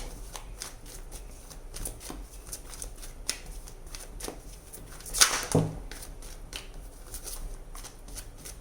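Tarot cards being shuffled by hand, a continuous soft riffling and flapping with a louder burst of slapping cards partway through, close and otherwise quiet with no talking.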